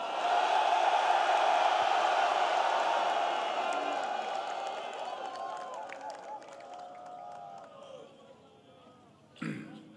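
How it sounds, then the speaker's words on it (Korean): Large crowd cheering and applauding at a Korean Armed Forces ceremony: a loud, dense roar at the start that slowly fades over ten seconds, ending with a short thump. "다시 한번 큰 함성과 박수 부탁드립니다"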